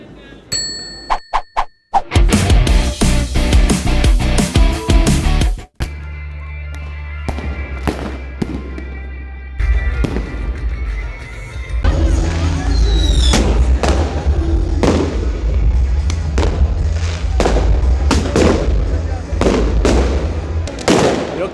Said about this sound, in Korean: 여기서 폭죽을 사서 저렇게 폭죽을 터뜨리면 될 것 같아요.